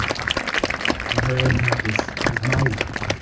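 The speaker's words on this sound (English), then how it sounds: "We can clap for Miss Pat Johnson." Applause from an audience at a Lincoln School Reflection Plaza dedication ceremony, steady clapping sustained throughout, with a voice and musical tones heard over it.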